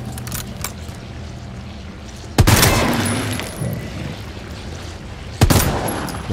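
Pistol shots in the survival horror game Resident Evil 2 Remake, two sharp loud cracks a few seconds apart, each trailing off into a reverberant tail over a low ambient game background.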